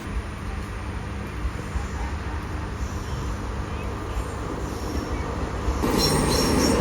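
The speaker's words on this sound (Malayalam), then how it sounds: "മഡ്ഗാവ് മുംബൈ CSMT മാൻഡവി എക്സ്പ്രസ് ആണ് ഈ വരുന്നത് കണ്ടോ" The Madgaon–Mumbai CSMT Mandovi Express on Konkan Railway, hauled by a WP4 locomotive, arrives with a steady rumble of wheels on rails and a faint high squeal, swelling louder near the end.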